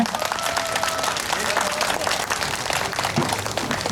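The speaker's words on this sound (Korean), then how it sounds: "여러분 큰 박수 주시면 고맙겠습니다." Festival crowd at an outdoor music stage in Bucheon applauds loudly and steadily, dense clapping from many hands filling the whole stretch.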